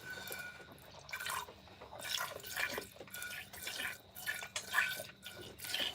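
Goat being milked by hand, milk squirting into a pail in rhythmic, spurting bursts, close and moderately loud with a faint hiss between streams.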